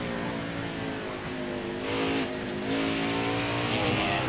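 Race car engine in a racing video game at Watkins Glen, holding a steady droning tone with strong harmonics, then rising as the throttle opens and revving louder toward the end, with no voices.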